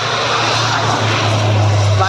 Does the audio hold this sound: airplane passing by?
yes